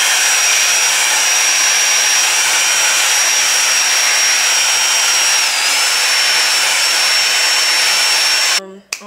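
A hair dryer blows steadily and loudly on glue along a wig, a continuous whooshing hum with a slight pitch dip partway through, cutting off abruptly at the end.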